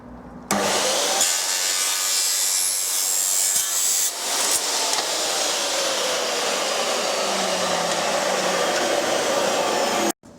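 A wooden fence post spacer piece, cut to 5 cm by 5 cm, is sawn by hand with a continuous, loud, close-up rasping stroke that runs steadily for about ten seconds before stopping abruptly.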